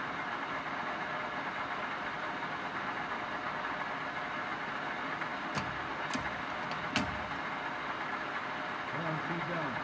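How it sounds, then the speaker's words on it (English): Machine spindle spinning up on a shop machine used for injection mold work, a steady, even mechanical hum running throughout, with a few sharp metallic clicks partway through. "get the spindle going"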